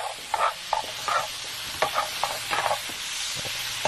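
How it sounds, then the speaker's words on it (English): Vegetables sautéing in a pan make a close, steady hiss with frequent short scrapes and taps of stirring. "So I sauteed all of that up together."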